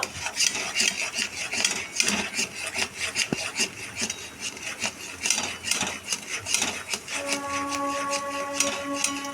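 Continuous rasping and scraping of a spoon stirring a ripe mango mixture in a wok on the stove, rhythmic close strokes with occasional light metallic knocks.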